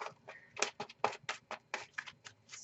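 Rapid, papery riffling of tarot cards in repeated bursts, close and fairly quiet, with small gaps between each shuffle.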